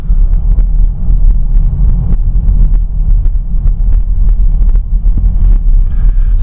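A 2014 Mercedes-Benz GLK 250 diesel engine runs steadily with a deep, continuous low rumble, some wind buffeting on the microphone, and no talking.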